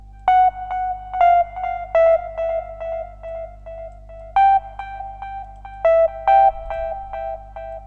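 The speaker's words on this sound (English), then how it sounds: "take a simple beep. There's one with the TS404 channel presets" A simple FL Studio TS404 synth beep patch with heavy delay, chorus and big reverb plays a short melodic sequence of bright electronic tones, each note echoing and trailing off over a low steady hum.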